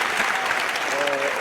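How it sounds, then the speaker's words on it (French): Women in an audience at a comedy show applaud in a continuous, even wash of clapping, with faint voices mixed beneath it. "elles applaudissent"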